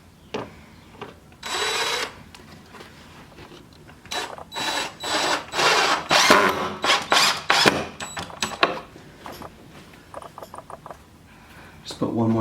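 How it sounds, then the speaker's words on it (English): A power drill drives screws to fasten a picture window frame against the outside jamb, giving several loud bursts of whirring and ratcheting in quick succession, separated by brief pauses and handling clatter. "start screwing the window into place."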